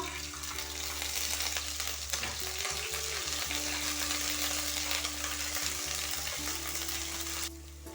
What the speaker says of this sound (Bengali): এবার দিয়ে দেব জিরে বাটা,